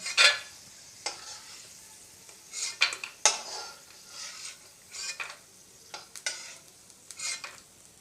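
Fried peanuts are lifted out of hot oil with a metal spoon: soft sizzling beneath a string of scraping and clinking strokes against the pan, irregular and close, with brief pauses between scoops.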